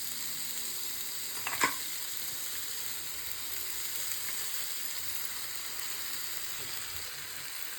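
Green peas and boiled potatoes fry in a pan, giving a steady soft sizzle with a brief sharp clink of a utensil near the start, then an even hiss throughout.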